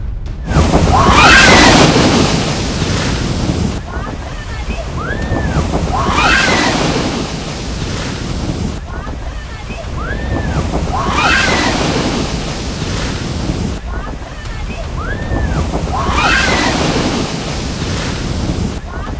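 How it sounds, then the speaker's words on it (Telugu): Strong sea waves crash repeatedly onto the shore at Gangavaram Beach in rough conditions, a loud, continuous surf roar with heavy wind buffeting the microphone and periodic surges as each wave breaks. "అలలు ఎంత ఉధృతంగా ఉవ్వెత్తున ఎగిసిపడుతున్న దృశ్యాల్ని ప్రస్తుతం మనం చూస్తూ ఉన్నాం"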